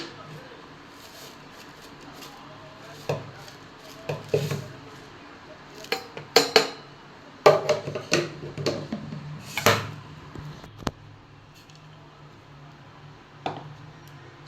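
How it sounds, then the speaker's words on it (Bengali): A lid set onto a pot of steeping tea leaves in a home kitchen, heard as a few clinks and clatters of metal and crockery scattered over a low background, with some nearby handling noise. "এবারে এই ঢাকা দিয়ে দিলাম।"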